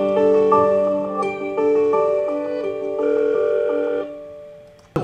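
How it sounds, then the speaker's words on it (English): Cisco soft phone on an agent desktop computer ringing with a clear, melodic electronic ringtone, a pattern of stepped tones repeating for several seconds before cutting off, with no voices. "So the phone ringing was actually my Cisco soft phone."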